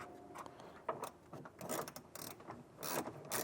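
A nut is worked off with a ratcheting tool during a hitch install on a 2019 Audi Q3, giving faint, irregular metallic clicks and rasps in short bursts, close by.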